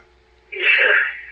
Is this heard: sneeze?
yes